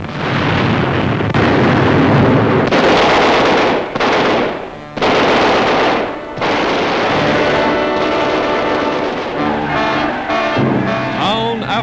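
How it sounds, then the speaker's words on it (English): Wartime newsreel sound of the British 8th Army advancing on Tunis: loud, dense bursts of gunfire and heavy explosions, several long rumbling blasts with brief gaps between them, close and overwhelming. "the British 8th Army blasting their way to Tunis"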